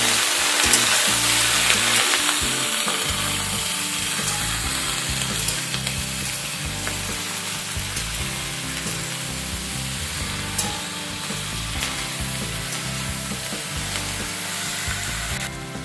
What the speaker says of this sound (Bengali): সমস্ত সবজি একসাথে একটু ভালোভাবে নাড়াচাড়া করে নেব।